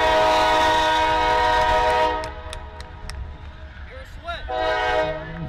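Train horn blasts loud and steady for about two seconds beside a Sunday league football pitch, then several short horn notes follow as rail noise carries on more quietly, with voices faint underneath.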